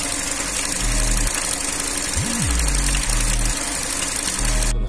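A Ford EcoSport engine idles steadily with a low, even rumble and faint vibration, close and continuous throughout, with a brief rising tonal sweep partway and no talk.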